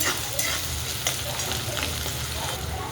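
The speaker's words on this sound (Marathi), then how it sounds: "इथं बारीक कांदा चिरून घेतलेला तो पण टाकून घेऊया" Finely chopped onion hits hot oil with sesame seeds in a pan for chapati chivda, giving a steady, dense sizzle with occasional stirring scrapes, close and continuous.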